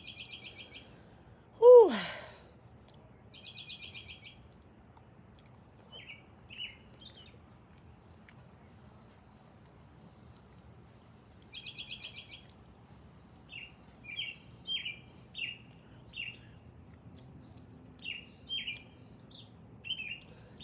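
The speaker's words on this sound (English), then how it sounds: "Talk about waking up in the morning hearing those birds outside your window." Wild birds sing outside in the morning: a quiet scene with sparse, clear chirps and short repeated trills spread across the stretch, near to middling distance, plus a single sharp swooping note early on.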